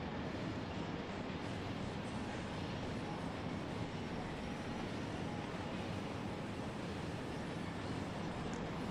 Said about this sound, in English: Okay, manually taking the train it is.